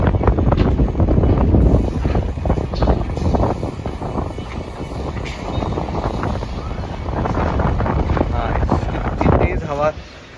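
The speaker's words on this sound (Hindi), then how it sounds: "इतनी तेज हवा चल रही है" Strong wind buffets the microphone at a high-rise residential construction site, a loud, gusty roar running throughout while someone talks over it.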